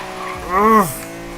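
A stock BMW E46 drifting, its tires letting out a short rising-and-falling squeal over steady engine noise, with a voice briefly audible.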